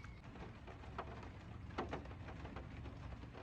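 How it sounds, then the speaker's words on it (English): Rain falls steadily around a campervan being fitted out, a soft, continuous patter and hiss at low volume, broken by a few faint taps and drips, with no talking. "Oh, here comes that rain again, Mick."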